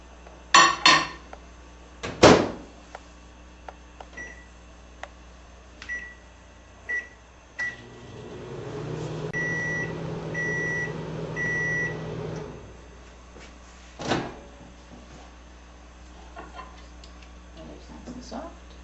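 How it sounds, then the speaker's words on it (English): A microwave oven hums steadily for a few seconds while heating butter to soften it, bracketed by clicks, clatter and short beeps, with a voice speaking around it. "We're going to just heat it in the microwave to soften it slightly."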